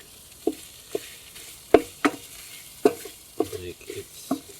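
Curry cooking on a Cobb gas barbecue at a campsite, with a series of sharp scraping stirs and clatters against the pan over a faint sizzle, fairly close.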